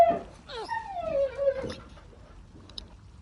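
A dog whimpers close by, with a couple of thin, high whines that slide downward in pitch, then quiet room noise.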